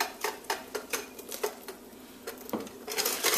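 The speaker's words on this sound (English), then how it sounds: "So as I whisk, I'm just going to add some of this" A whisk clicks rapidly against a bowl as hot cream is beaten into eggs for soursop ice cream, a quick, irregular rhythm of close metallic taps with short pauses between bursts.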